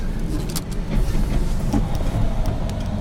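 A pickup truck pulls away from a stop in second gear, its engine a steady low rumble with road noise throughout, no talk over it.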